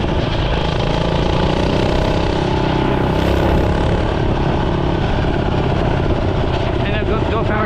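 A GoPowerSports motor on a Barbie Dream scooter converted into a minibike, running near top speed around 25 mph, with a loud steady buzzing engine drone and wind rush the whole time.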